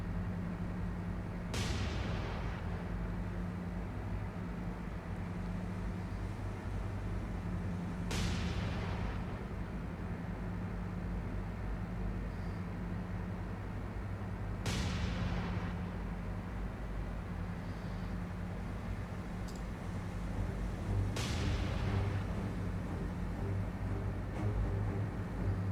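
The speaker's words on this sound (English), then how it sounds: "let's empty our guns. We're going to put them into him" Boat guns fire from a PT boat in a naval combat game: several sharp, distant-sounding blasts spaced a few seconds apart, each with a short decay, over a constant low engine drone.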